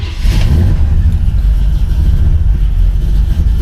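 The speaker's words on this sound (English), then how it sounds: "Fire it right up from a cold start." A 1968 Chevy Impala idles loud and close after a cold start, its engine a steady low rumble throughout.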